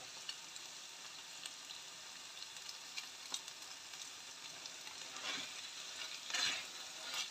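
Squares of savory crêpe fry in a little butter in a pan, giving a soft, steady sizzle. A few brief stirring or scraping touches rise above it, with no talking.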